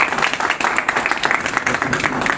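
Vigorous applause from an audience at a UPSC guidance and motivational seminar, dense rapid clapping that continues loudly and steadily from start to finish.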